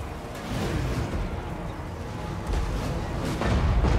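Dwarf units firing guns in a Warhammer 2 battle, a dense rumbling barrage of booming shots that runs on without a break, loud and heavy, with no talking over it.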